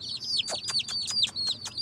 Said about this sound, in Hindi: तो अभी मैं आपको चूजे दिखा रहा था जी